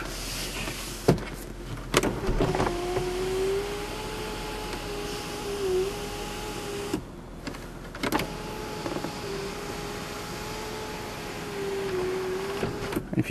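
The electric sunroof of a 2001 Mercedes-Benz C240 with 40,000 km runs in two long, steady motor whines, each ending with a click, heard close inside the cabin with no talking.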